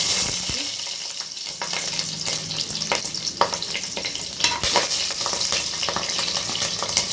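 Onions and green chili sizzle steadily in hot oil with occasional clinks and stirring noises, continuous and close.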